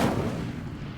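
Incendio fire spell cast in Hogwarts Legacy, a single sharp burst that blooms into a whooshing roar and fades over about a second, close and loud.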